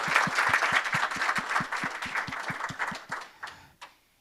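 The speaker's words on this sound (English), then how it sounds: "So I wanted to, Michelle, stand up and applaud for her" Audience applause at a meeting, with one close, steady clapper in an even rhythm over a wash of scattered clapping from a room of people, tapering off near the end.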